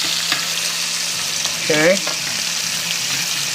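Potato medallions fry in hot oil in a pan with a constant crackling sizzle, while a voice briefly speaks a single word midway.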